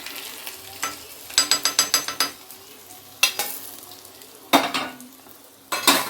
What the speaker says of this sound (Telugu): ఒకవైపు వేగింది, రెండో వైపు కూడా నేను తిప్పాను. బాగా ఎర్రగా ఏగాలి.